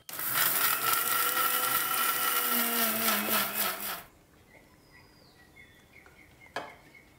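A kitchen grinder whirs loudly as it pulverises fennel seeds and sugar into powder, running steadily for about four seconds before stopping, followed by quiet clinks and a brief knock.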